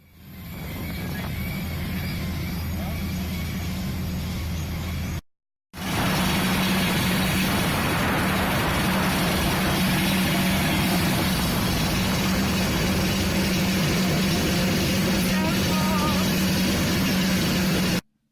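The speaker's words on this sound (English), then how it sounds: "Airplane engines sure do sound like there's something wrong with them." Airplane engines drone loudly and continuously with a low, throbbing hum, briefly cutting out once before resuming.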